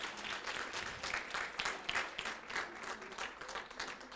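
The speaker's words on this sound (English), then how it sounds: "A round of applause, please." A crowd at a Women's Month dialogue event claps steadily throughout, moderately loud applause from an audience in a hall.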